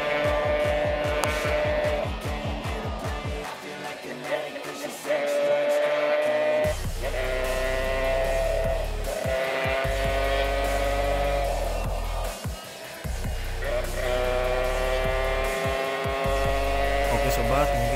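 A stock, standard-spec engine revs loudly and close, climbing and dropping in pitch through repeated bursts of throttle with steady drone between them.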